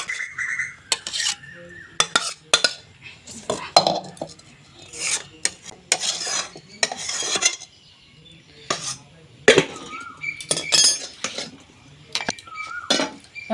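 Raw mango pulp poured and spread over a metal plate for mango papad, with repeated scraping and clinking of a utensil against the plate in short bursts, close and fairly clear.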